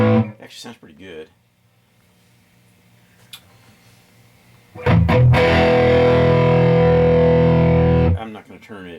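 Electric guitar through a homemade Marshall Plexi clone amp: a few quiet overdriven notes, a stretch of near silence, then a loud sustained distorted chord that rings for about three seconds before cutting off.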